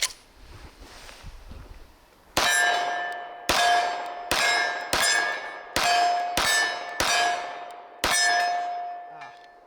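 Shots from an Auto Ordnance Commander 1911 pistol fed from an ETM magazine with a low-profile steel base plate: eight sharp, loud reports at a fairly steady pace, each followed by a ringing metallic tail.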